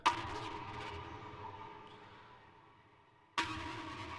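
A gritty, distorted synthesizer note strikes and slowly fades over a few seconds, then a second note hits abruptly at the end.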